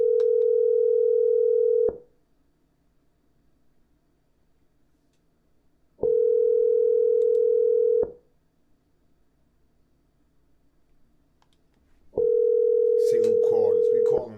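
A telephone dial tone comes back after a dropped call as three steady, loud tone segments of about two seconds each, separated by quiet gaps. Noisy interference breaks in over the final segment.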